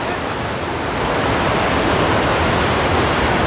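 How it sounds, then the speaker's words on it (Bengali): Dasam Falls waterfall in monsoon, a steady broadband roar of heavy falling water that fills the scene without pause, close and loud, growing slightly stronger partway through with no other sounds standing out. "ঝর্ণাটা দেখুন"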